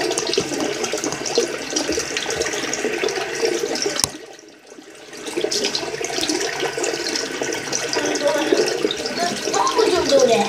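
Water running from a household tap, a steady close hiss and splash that cuts out briefly partway through and then resumes.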